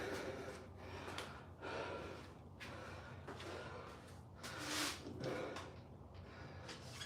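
Heavy, faint breathing after single leg squats during a workout: repeated gasping inhales and snorting exhales in an uneven rhythm, close to the microphone with no speech.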